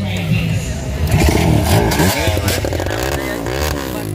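A motorcycle engine revs and sputters up close at an endurocross race, the pitch rising and falling through several throttle bursts, with people talking over it.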